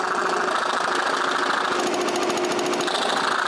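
A scroll saw cuts finger joints in plywood, a steady, loud buzzing rattle of the fast reciprocating blade running throughout with no pauses.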